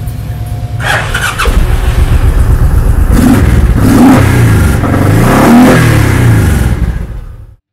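A 2002 Honda VTX1800C large-displacement cruiser motorcycle starts up and revs loudly, with several rising and falling throttle blips up close before cutting off abruptly.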